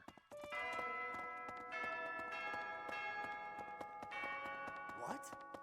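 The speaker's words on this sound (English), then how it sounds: "Why is the bell ringing again?" A bell rings repeatedly in Fire Emblem: Three Houses, resonant chimes layered with sustained tones over game music, moderately loud with steady strikes.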